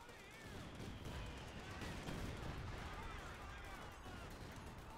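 Continuous rumbling battle din of artillery bombardment in Company of Heroes 2, dense overlapping blasts and gunfire at steady loudness, with faint voices mixed underneath.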